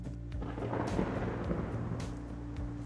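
Thunderstorm during a flood, with deep rolling thunder rumbling continuously and loudly over a steady rain wash.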